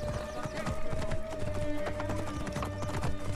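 Galloping horse in Assassin's Creed Origins, quick rhythmic hoof clatter close up and steady, layered with game music and faint voice.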